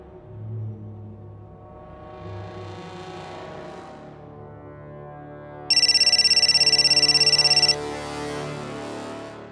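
A telephone rings unanswered indoors, an electronic ringtone sounding in repeated bursts with a loud, steady electronic tone near the end, no voices over it.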